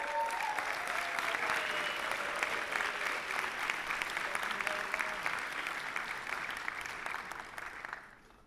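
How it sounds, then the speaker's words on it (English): An audience at an Erasmus Generation Meeting session in Bucharest gives a speaker a sustained round of applause, dense even clapping from a large room that fades out near the end, with no talk over it. "Give her a round of applause."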